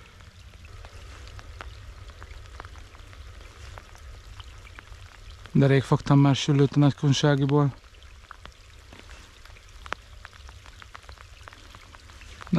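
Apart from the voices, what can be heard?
rain falling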